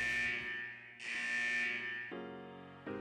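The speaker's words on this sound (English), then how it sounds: "the buzzer signaling the end of the test echoes" A buzzer signals the end of a test in the fighting game Persona 4 Arena Ultimax, sounding as a loud, sustained electronic drone that shifts pitch in several abrupt steps over three seconds.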